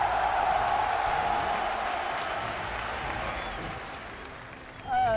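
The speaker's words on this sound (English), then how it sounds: "We've got cheering that's going on in the..." Crowd cheering and applauding at The International 10 Dota 2 tournament during PSG LGD versus Secret, a loud, sustained roar of the arena audience with commentators talking over it, swelling again near the end.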